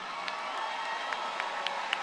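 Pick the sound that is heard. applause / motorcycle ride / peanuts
applause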